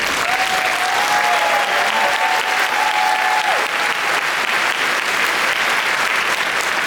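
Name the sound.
graduation ceremony applause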